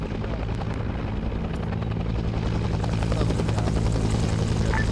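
A helicopter in a Vietnam War video game runs steadily throughout, a loud continuous rotor and engine drone with low rumble, holding at one level with no speech over it.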